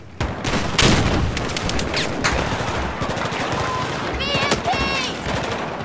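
Automatic gunfire in Battlefield 4 on Xbox One rattles in loud, rapid bursts with heavy booming shots throughout, close and harsh, with a player's voice speaking over it at moments.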